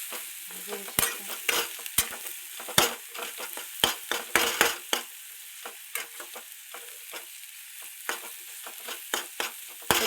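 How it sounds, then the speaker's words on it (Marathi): Onion frying in a pan, steady sizzle broken by frequent clinks and scrapes of a spoon stirring, close and continuous with no talking. "तुम्ही पाहू शकता कसा भाजायचा कांदा."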